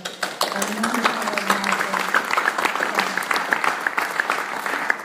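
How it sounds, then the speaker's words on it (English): Audience applause at a jazz and roots festival kickoff event, a sustained crackle of many hands clapping, fairly close and steady throughout, with a voice briefly audible underneath at the start. "So a round of applause for"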